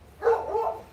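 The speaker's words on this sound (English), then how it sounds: "That was my dog in the background." A dog barks once in the yard outside, a single moderately loud, somewhat distant woof with a slight trailing tone, heard alone without talk.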